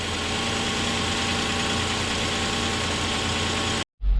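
A Nissan Pathfinder's engine idles steadily after an oil change, a close, even hum with constant low rumble, before cutting abruptly to silence near the end.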